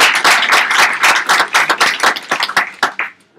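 A small meetup audience claps for the organising team: a short, close burst of distinct handclaps with audible individual hits that tapers off after about three seconds.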